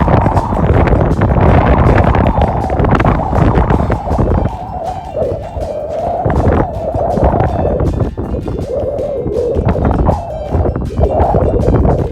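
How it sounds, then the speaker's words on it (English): Loud, constant wind buffeting the microphone of a DJI Mini 2 drone flying in winter, a heavy rumbling roar that fluctuates in gusts throughout with no voices. "Yeah, it's really windy."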